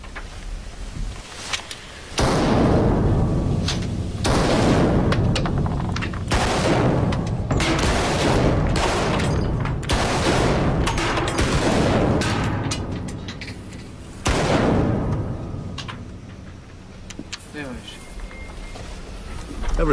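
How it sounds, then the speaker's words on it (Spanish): Gunfire at a weapons demonstration, with loud repeated bursts and single reports in quick succession over about twenty seconds, dense and close, broken by short pauses, with voices faintly underneath. "Uno de cada tres disparos va."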